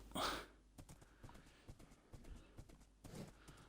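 Horse hooves clip-clopping in Minecraft, a steady run of light, close hoofbeats with one short loud burst at the start, no talk over them.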